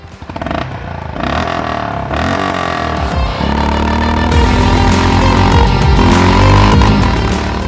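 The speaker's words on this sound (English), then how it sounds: "Now let's give it some revs." Honda CB350 RS motorcycle engine revs repeatedly from a bassy idle, each blip of the throttle rising and falling, then climbing into a sustained loud, close rev.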